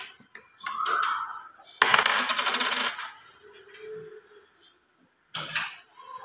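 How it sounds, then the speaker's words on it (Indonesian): A coin is tossed and lands, giving a bright metallic clatter and ringing spin lasting about a second, followed later by a second short clink, close and clear with faint sounds between. "Boleh akan melempar koin"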